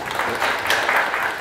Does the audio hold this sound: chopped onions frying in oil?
no